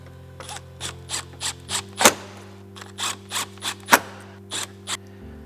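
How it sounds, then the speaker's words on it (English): Three T20 Torx screws being driven back into the DRL heatsink of a BMW M2 F87 LCI, giving a run of small, close ratcheting clicks in a steady rhythm, with a steady hum underneath and no talk. "Reinstall the 3 T20 Torx screws."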